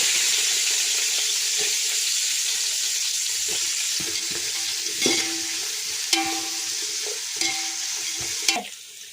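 Chopped onion frying in a pan with cinnamon sticks, cloves and cardamom for ghee rice, a steady sizzle broken by a few sharp clinks and scrapes of a stirring spoon against the pan.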